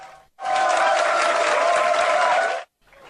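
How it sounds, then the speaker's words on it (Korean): Sailors in the mess hall of the stealth destroyer Munmu the Great erupt in loud cheers and applause as the president arrives, a sustained roar of voices and clapping that starts and cuts off abruptly. "문무대왕 식당에 문재인 대통령이 나타나자 장병들의 환호가 쏟아집니다."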